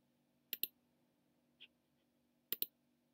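A computer mouse clicking during work in an Excel spreadsheet: two quick double-clicks about two seconds apart and one softer click between them, close, quiet and crisp, with no voices.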